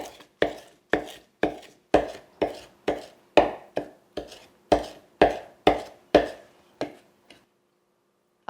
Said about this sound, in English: So this is just a mezzaluna knife, and I have the herbs in here, and I'm just going to chop them up.